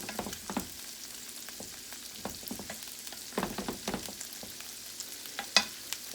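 Peppers sweat in a hot frying pan, a soft steady sizzle broken by scattered crackles and pops, fairly quiet and close with no talking.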